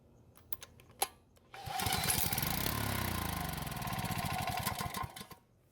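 Used small lawn mower engine, not secured to its frame, test-started after fresh gas and a new plug: a few clicks and a thump, then a loud rough buzzing run for several seconds before it cuts out.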